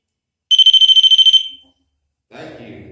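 A smoke alarm heard in a house furnace area sounds a rapid string of about a dozen sharp, loud, high-pitched beeps, then falls silent; a faint, muffled sound follows near the end.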